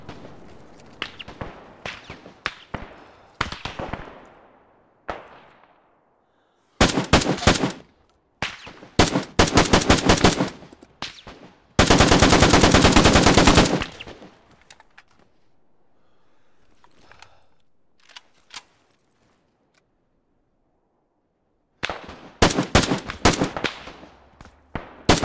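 Gunfire in the military video game Arma 3 comes in sharp single shots and dense automatic bursts, loud and close, separated by stretches of near silence.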